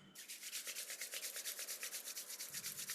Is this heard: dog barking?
no